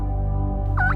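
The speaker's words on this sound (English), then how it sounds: "they're talking about all the turkeys they got here" A wild turkey gobbles once near the end, close and clear, heard from a hunting blind in Kansas over a low steady hum.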